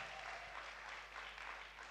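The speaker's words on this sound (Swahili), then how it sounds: "Mpigie Bwana makofi mazuri." A church congregation claps together during a Swahili sermon, a faint, steady patter of many hands that fills the whole moment without pause.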